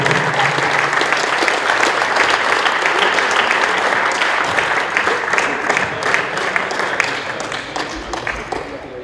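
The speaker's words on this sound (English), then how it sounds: "give him a big huge applause" Crowd applause for Marcin Osiepa of Poland, winner at a Dutch Open crossminton (speedbadminton) podium ceremony, a dense, steady wash of clapping that runs loud and unbroken for the whole stretch, easing only slightly at the end.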